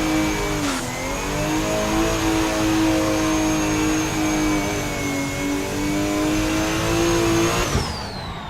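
A Nissan S15 engine in the racing game Assetto Corsa holds a loud, steady high rev for several seconds with a slight dip early on, then drops sharply near the end.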